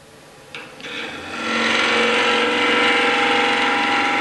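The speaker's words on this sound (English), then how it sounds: "So I'm using this long edge of my bowl gouge to do that." A bowl gouge cuts a wooden bowl spinning on a lathe, a loud steady rasping scrape that swells in after a brief tap and then holds continuously.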